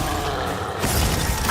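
Glacius freezing spell from the video game Hogwarts Legacy, a short icy crackling, mechanical burst that swells into a brighter shattering hiss near the end, brief and moderately loud.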